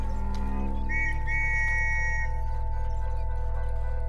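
In the Red Dead Redemption 2 game world, a man blows a whistle in a few sharp shrill bursts, the longest lasting about a second, over a steady low hum of background ambience.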